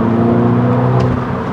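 A Mini Convertible S with the roof closed accelerates hard in its mid drive mode, a steady loud engine drone and whir heard from inside the cabin, with no talk.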